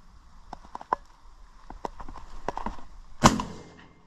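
A single loud shotgun blast fired at incoming jackdaws and crows over infested fields, a sharp broadband crack followed by a short decaying rumble, preceded by faint scattered clicks and rustles.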